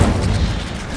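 Incendio fire spell cast in the Hogwarts Legacy video game, a loud, dense, low rumbling whoosh of flame that sustains for about a second.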